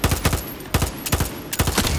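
Gunfire in Far Cry 6 comes as loud, close bursts of rapid shots: three tight volleys of sharp cracks, each a rattling run of several rounds, separated by brief gaps.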